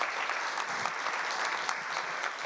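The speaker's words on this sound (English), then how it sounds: "Round of applause for our amazing panelists." Steady, dense applause from a conference audience for the panelists at the close of a session, sustained and even throughout with no talking on top.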